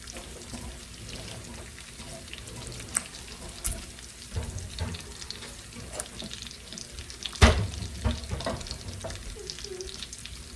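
Bacon frying in plenty of oil gives a steady crackling sizzle throughout, with occasional clinks and stirring bumps and one sharper knock, and no talk.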